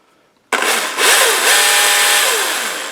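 A battery-powered Husqvarna chainsaw starts abruptly with a button press and runs loud and steady at idle, a dense whirring motor hum with faint shifting tones, close up with no talking.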